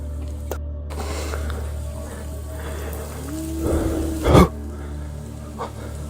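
Steady rain patters throughout at a campsite under a constant low hum, with a couple of sharper knocks near the middle.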